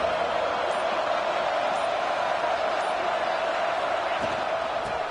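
Stadium crowd in a college football video game makes a steady, dense roar that holds at an even level throughout, with no distinct voices standing out.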